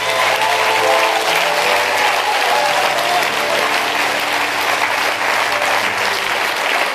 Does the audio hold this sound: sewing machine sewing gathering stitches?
no